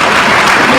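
A brief, loud burst of dense audience applause at an agricultural innovation event in Bhopal, a continuous wash of clapping lasting under a second.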